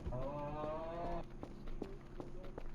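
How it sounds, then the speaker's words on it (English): A cow lets out one long, drawn-out moo, followed by a few soft thumps and shuffling noises, moderately quiet with no talking. "I heard a cow go moo"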